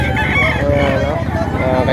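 A white-legged rooster for sale at a poultry market in Padre Garcia, Batangas, crows close and loud in one drawn-out call, with faint market voices in the background.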